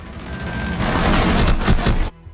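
Proximity alarm gadget in Rainbow Six Siege: a steady electronic tone sounds first, then a loud burst of noisy crashing and rumbling that cuts off abruptly.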